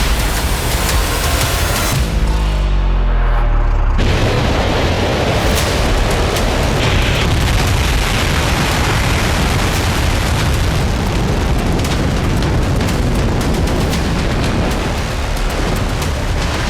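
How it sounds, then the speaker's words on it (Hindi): A massive, roaring blast from a North Korean missile test launch that rumbles on continuously, loud and sustained. "जनवरी में ही तीसरी बार किम जोंग ने एक नई मिसाइल टेस्ट करके हड़कंप मचा दिया है।"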